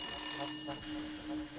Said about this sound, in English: The sound of the phone ringing.